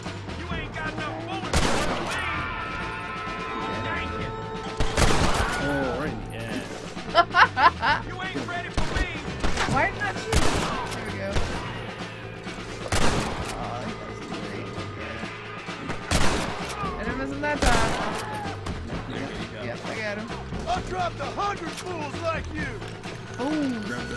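Repeated sharp gunshots and bursts of fire ring out as a mining group is attacked in the video game Red Dead Redemption, with a voice talking between the shots.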